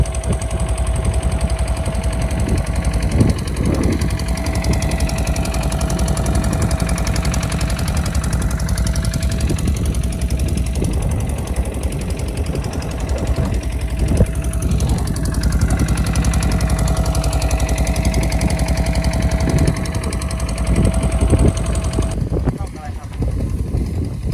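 A farm tractor engine runs a pump draining a rice-field fish pond, a steady loud rattling chug that continues without pause, with someone talking over it throughout.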